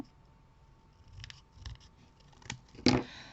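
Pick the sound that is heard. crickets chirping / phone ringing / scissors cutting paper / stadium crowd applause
scissors cutting paper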